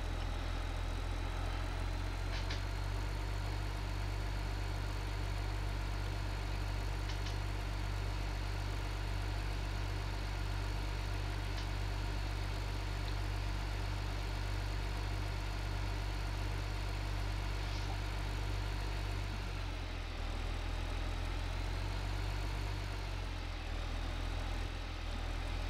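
In Farming Simulator 15, a tractor engine strains and bogs down while hauling a tipper up a hill, a heavy, steady low drone that sags in pitch near the end before recovering.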